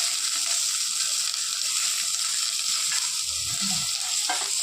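One tomato fries in oil in a pan, giving a dense, continuous close sizzle with a muffled knock and a brief scrape near the end and no voices.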